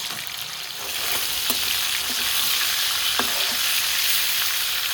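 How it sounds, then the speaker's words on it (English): Chicken pieces for butter chicken shallow frying over medium-high heat in an uncrowded pan give a steady close sizzle that swells after the first second, with a few faint ticks and pops and no talk. "so just let it cook like this on a shallow fry"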